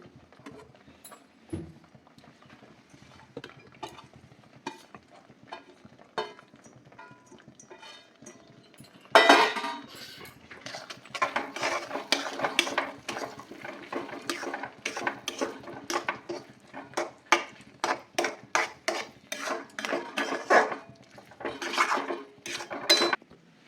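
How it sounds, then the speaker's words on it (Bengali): Mushrooms are stirred into a cooked spice paste in a pan. Sparse light taps come first, then a sudden clatter leads into dense, rapid metallic scraping and knocking of a spoon against the pan, close and fairly loud. "এরপরে এর মধ্যে মাশরুমগুলোকে দিয়ে দেবো।"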